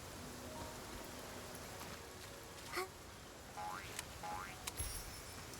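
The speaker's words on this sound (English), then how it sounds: "So it's just perpetually raining over here." Steady rain falls across an area of the game Infinity Nikki, a soft continuous patter with occasional chiming game tones layered over it, moderately quiet and free of talk.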